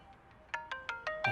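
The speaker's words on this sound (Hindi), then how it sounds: "अबे फोन आ रहा है भाई किसी का" A phone ringtone plays a quick series of bright electronic beeps, about six notes in a steady rhythm that grows louder, heard clearly with no talking.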